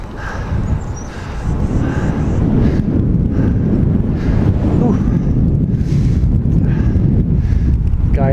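Wind blowing across the microphone on a road bike ride, a loud continuous low rumble and buffeting that swells after the first second and stays heavy throughout, with faint higher tones over it.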